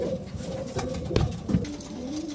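Racing pigeons cooing nearby at a derby race loft, soft low throaty coos repeating a few times with slight swells, no talking.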